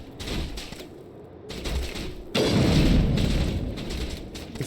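Gunfire in the video game Mass Effect comes as a few muffled bursts and booms, a louder dense stretch in the middle, all fairly distant and even with no voices.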